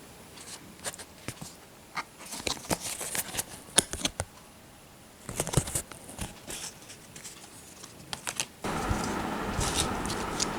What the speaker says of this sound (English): open by tearing this